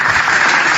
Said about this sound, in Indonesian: Tepuk tangan untuk Bang Zuma.